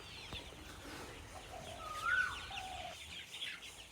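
Colorbird breed chickens on a farm cluck and chirp in short bursts, a few fairly close calls rising over a quiet background of faint shuffling and low hum.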